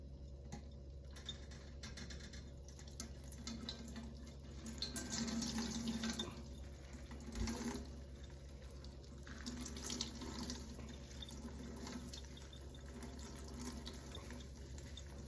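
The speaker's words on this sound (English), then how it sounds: "And now we're gonna squeeze it out. And get rid of all the moisture that we possibly can." Drained hot peppers being squeezed to press out moisture, with liquid running and splashing steadily into a sink, swelling briefly midway, faint and close, with no talking.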